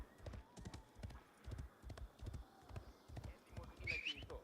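Horse hooves clip-clop in a video game during a tournament cast: a steady, rhythmic gallop of evenly spaced thuds lasting throughout, with a brief higher whinny-like cry near the end.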